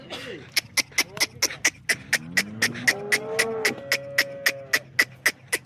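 A fresh cow that recently calved for the second time moos on a farm near her heifer calf, giving a few drawn-out harmonic lows in the middle, while a sharp rhythmic clicking ticks steadily throughout.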